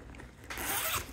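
A short, close zipper pull rasps open quickly on a BMW motorcycle tail bag pocket after a brief pause of quiet rustling.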